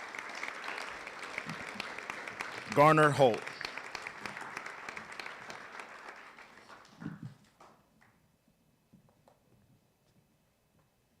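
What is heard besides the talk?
round of applause for students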